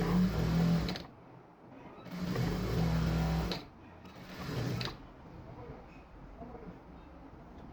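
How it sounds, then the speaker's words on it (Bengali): A sewing machine stitches a folded hem on fabric during a beginner tailoring session, running in three steady bursts with short pauses between them, fairly close and loud. "তারপর এভাবে মুড়ি সেলাই করে নিতে হবে"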